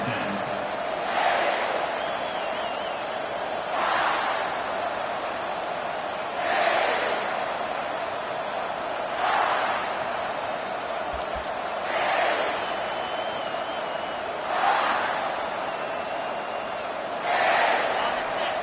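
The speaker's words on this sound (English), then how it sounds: "This crowd bringing the energy and noise" A large LSU football stadium crowd roars in repeated swelling waves, loud and distant-sounding, rising and falling every few seconds under a steady wash of crowd noise.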